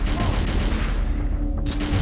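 Sustained rapid gunfire at practice targets in the mobile shooter Overkill 3, a dense, loud, unbroken rattle of shots with a short dip before resuming.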